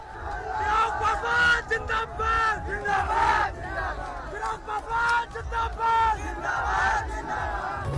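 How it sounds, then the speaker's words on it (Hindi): A large crowd at a political road show chants and shouts slogans for Ram Vilas Paswan, loud rhythmic voiced bursts rising and falling over a noisy street. "ढोल नगाड़ों के शोर और रामविलास पासवान के जयकारों के बीच निकले रोड शो में जबरदस्त भीड़ उमड़ी"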